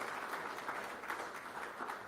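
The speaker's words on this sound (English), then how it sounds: "Let's give him a round of applause" An audience at the Bridge Forum in Phoenix applauds a speaker's introduction with a steady wash of clapping from many hands, fairly distant and even throughout, with no talk over it.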